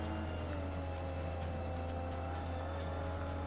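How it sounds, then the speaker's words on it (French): A race car engine in the Forza Motorsport 5 video game drones steadily at high revs throughout, loud and continuous with no pauses. "Je sais pas si vous entendez le moteur"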